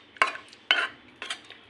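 A spoon stirs palak dal in a cooking pot, four separate scraping, clinking strokes against the metal, close and fairly loud with quiet gaps between them.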